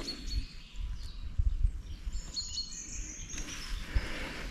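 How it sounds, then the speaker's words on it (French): Birds chirping and calling in a quiet natural setting, with faint thin high twitters scattered over low rumbling background noise. "les oiseaux,"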